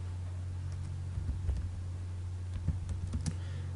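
Fingers type on a computer keyboard in scattered, light clicks and a few firmer taps over a steady low hum, fairly faint, with no one speaking.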